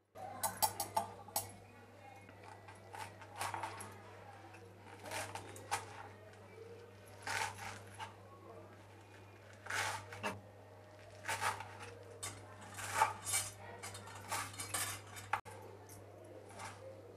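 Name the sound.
chopping green garlic and radish on a chopping board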